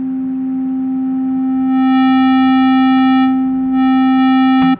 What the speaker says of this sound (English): I'm gonna add in a sine wave.